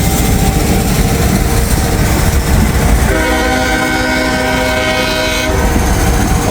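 Freight train led by a CW40-8 locomotive rumbles past loud and close with a steady roar of wheels and wagons, and the horn blares for a few seconds midway before the rolling noise carries on.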